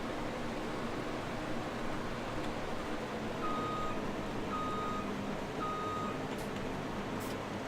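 A truck's reversing alarm in the Farming Simulator 2017 video game gives three evenly spaced beeps over a steady, loud rumble of engine and machinery noise.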